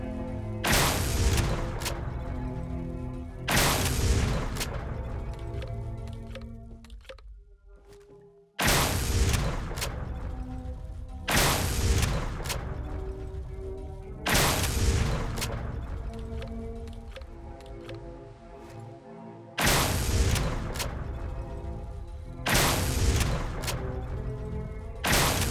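Modded Holorifle from Fallout 4 firing at targets on a shooting range, eight loud booming gunshots spaced a few seconds apart, each with a long decaying echo, with no talking.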